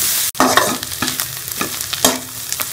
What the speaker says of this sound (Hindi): इसी के साथ अच्छी तरह से जो है प्याज को भी फ्राई कर लूंगी